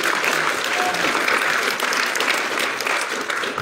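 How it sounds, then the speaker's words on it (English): An audience in a church sermon setting applauds Brother Jack, a steady, dense round of clapping that holds for several seconds at full volume. "let's give Jack a round of applause"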